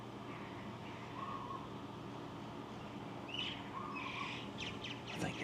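Birds chirping in palm trees on Moorea, Tahiti, at an early-morning campsite, with a few short, fairly distant calls scattered over a steady hiss of outdoor ambience and no voices.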